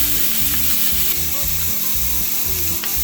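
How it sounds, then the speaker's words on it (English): Carrots sizzle steadily in a hot pan for a Pad Thai, a loud, continuous frying hiss with occasional stirring scrapes throughout. "To a hot pan, we're adding in our carrots."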